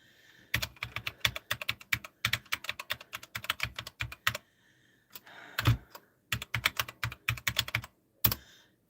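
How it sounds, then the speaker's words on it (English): Rapid bursts of typing on a computer keyboard, close and fairly loud, with dense clattering keystrokes broken by a few short pauses and one longer gap. "all that typing"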